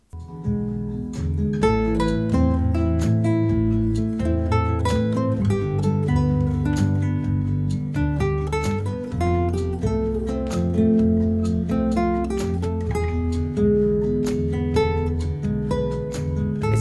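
A guitar plays a melodic line over ringing chords, notes picked steadily and sustained, clear and close throughout with no speech.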